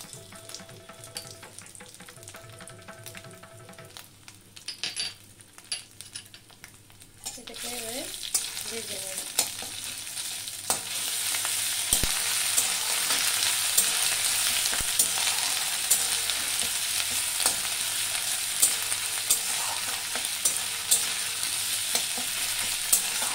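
Ginger and cumin paste hitting hot oil in a pan, quiet stirring scrapes at first, then a loud continuous sizzle that swells and holds steady with occasional utensil taps.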